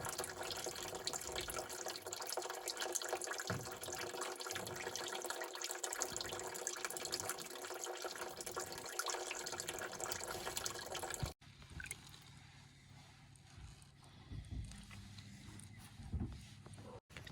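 Water drains and trickles steadily from a Triumph Roadster radiator during flushing, a continuous splashing wash that suddenly cuts to quieter dripping and faint trickles.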